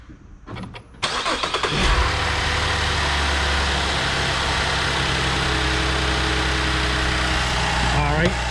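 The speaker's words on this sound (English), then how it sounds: "let me go start the car up." A 2015 GMC Acadia engine cranks and catches after about a second, then settles into a steady, fairly loud idle close by, with brief voices before the start.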